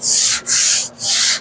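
Primer being sanded by hand, heard as three long, even rasping strokes back and forth, close and loud, with brief pauses between them.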